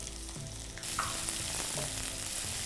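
Thinly sliced onions drop into hot oil with cashews and fry. A dense, steady sizzle jumps louder partway through and keeps going, close and even, with no voices.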